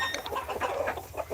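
Farm chickens clucking close by in the morning, a quick run of soft overlapping clucks and murmurs with no voices over them.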